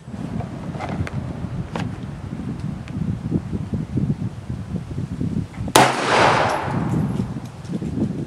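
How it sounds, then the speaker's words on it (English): A single sharp gunshot from a TriStar C100 pistol cracks out at an outdoor shooting range, loud and close, with a ringing decay that lingers for a couple of seconds over steady wind noise and rustling. "we'll put a couple rounds down range"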